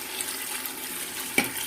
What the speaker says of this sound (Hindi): ये आधा जग पानी का मैं डाल रही हूँ